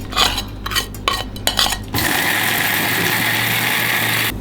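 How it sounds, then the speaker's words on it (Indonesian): Items dropped into an electric food chopper with clattering, then the chopper starts and grinds dried chilli, garlic and kencur with a loud, steady motor whir, no speech. "ini kita masukkan cabai keringnya, tambah bawang putih sama kencur, sekalian kita chopper juga"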